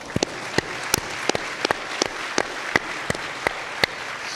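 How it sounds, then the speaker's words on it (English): A round of applause at a San Jacinto College event, with sparse, distinct claps popping out at uneven intervals over a soft continuous bed of wider clapping. "can we give a special round of applause to the guests most dear to my heart"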